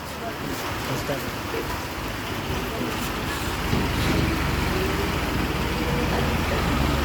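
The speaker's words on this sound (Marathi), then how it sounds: "बघू शकता तुम्ही किती पाऊस येऊन राहिलेला आहे" Heavy rain pours down at a roadside halt during a motorcycle trip, a dense, steady hiss and rumble that holds evenly and swells slightly partway through.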